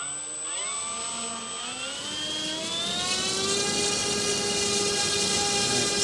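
An FMS 1400mm F4U Corsair RC warbird's electric motor and propeller at full throttle on a thrust test, whining as it spools up over a few seconds and then holding a loud, steady high-pitched drone close by.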